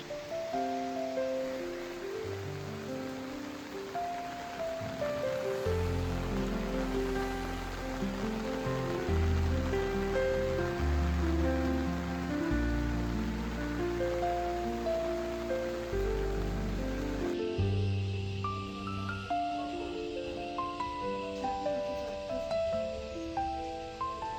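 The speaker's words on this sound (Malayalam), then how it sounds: "അപ്പോൾ ഇന്ന് നല്ല മഴയൊക്കെയാണ് കേട്ടോ." A continuous wash of heavy monsoon rain in Kerala hisses steadily throughout, blended with a low, sustained musical backing.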